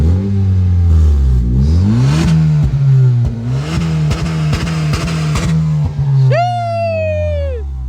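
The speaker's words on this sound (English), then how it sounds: "everybody hear the sound test on the Honda Accord with the straight pipe" A Honda Accord 2.0T with a straight pipe exhaust revs loudly up close, several rising and falling engine revs with raspy, crackling tone, ending in a sharp high whistling spool-down, with no talk over it.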